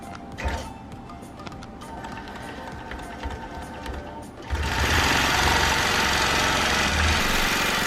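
A longarm quilting machine restarts and stitches a T-shirt quilt, with quieter mechanical clicks and hum giving way halfway through to a loud, steady, close motor drone.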